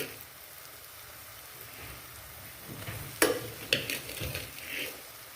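A spoon stirs egg masala in a hot pan before rice goes in, soft sizzling frying under a few scraping clinks of utensil against the pan, close and fairly quiet.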